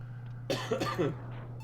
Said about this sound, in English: I was able to hear myself coughing on stream